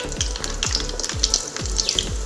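Cumin seeds, added after mustard and fenugreek, sizzle in hot oil as tempering for a fish curry; a close, steady crackle with tiny pops runs under a rhythmic, repeating low whoosh, with no talking.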